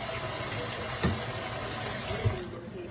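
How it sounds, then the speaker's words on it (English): Water pours steadily into a soup pot for 15 bean soup, a close continuous gushing rush from a tap that tapers off near the end. "I'm going to fill it up with water. I'm going to do 4 cups of water."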